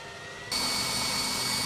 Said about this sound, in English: There's the pump going.